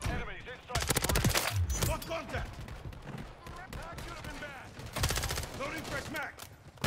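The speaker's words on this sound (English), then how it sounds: "That was a shotgun." Shotgun blasts and rapid gunfire in Call of Duty MW3 multiplayer, several loud close bursts clustered near the start and again later, mixed with someone talking over the action.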